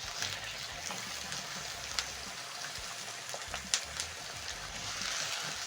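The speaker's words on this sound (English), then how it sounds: "Add in your onions and saute until soft." Onions soften in cooking oil in a frying pan over a low flame, giving off a faint, even sizzle with scattered soft crackles and pops. No voices are heard.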